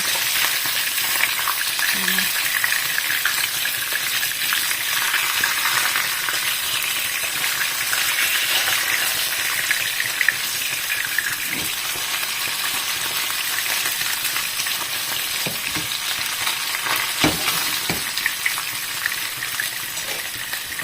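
Partly frozen fish frying in a pan gives a loud, steady sizzle throughout, with occasional clinks and scrapes from stirring or utensils.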